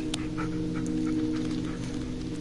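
A dog in the horror game Blair Witch pants softly in quick short breaths over a steady low ambient hum, faint and close.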